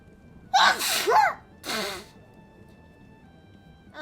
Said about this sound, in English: I don't sneeze in one, I sneeze in barrages.